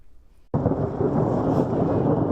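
Loud thunder rumbles in after a brief near-silence, a sudden heavy crack swelling into a sustained low roar during a winter thundersnow storm with snow and lightning in Ann Arbor.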